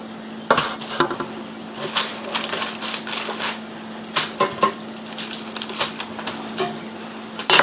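Knife strokes and taps on a cutting board as a boneless chicken breast is sliced in half for chicken parmigiana, a series of close, irregular clicks and thuds with no talking.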